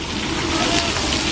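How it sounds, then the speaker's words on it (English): A water geyser fountain at Magic Kingdom gushes in a brief, steady, broadband rush of spray heard close and fairly loud. "here's a geyser"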